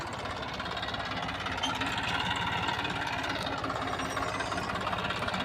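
A tractor engine idles on a farm with a steady, low mechanical throb and rattle that holds at an even level throughout.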